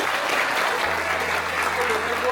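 Audience applause for footballer Dimitar Berbatov at a leadership event, a loud, sustained wash of clapping from a large crowd filling the whole moment.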